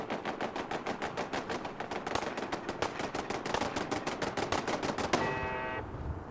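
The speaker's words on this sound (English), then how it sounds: "And it's getting annihilated by our turrets." Automated turrets in Fallout 4 firing at a creature, giving rapid sustained machine-gun bursts of sharp evenly spaced cracks for about five seconds before they stop and a ringing tone fades out.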